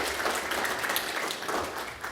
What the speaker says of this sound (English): So a round of applause to all you operators working all that hard hours.